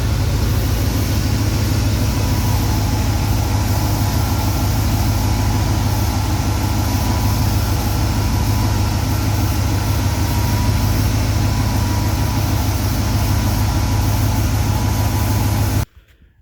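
An old Ford F150 pickup with an aftermarket loud exhaust idles continuously, a deep steady rumble close by that drones unchanged for about sixteen seconds before cutting off abruptly at the end.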